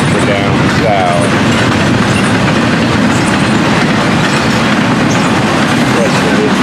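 An FEC freight train with double-stack containers and loaded ethanol tank cars rolls past steadily and close, wheels clacking over the rails throughout, with a voice briefly talking over it.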